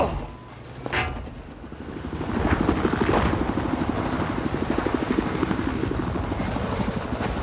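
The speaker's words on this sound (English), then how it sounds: "there's an enemy helicopter" Enemy helicopter in the video game Battlefield 4, its rotor chopping as a steady loud pulsing drone that swells and then holds, with gunfire-like clanks and thuds mixed in.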